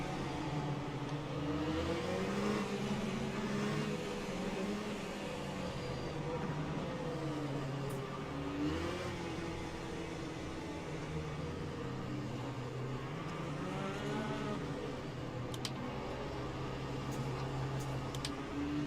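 Race car engines droning and whirring steadily on a formation lap in the sim racing game Le Mans Ultimate at Fuji, a multiclass field with BMW, with shifting pitch sweeps as cars accelerate and lift, continuous and fairly close.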